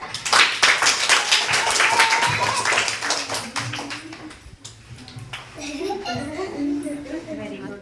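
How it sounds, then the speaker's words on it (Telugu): Schoolchildren at a primary school's National Science Day clap in a lively burst after a balloon-and-bottle science demonstration, then the clapping fades into children's chatter and voices. "క్లాప్స్"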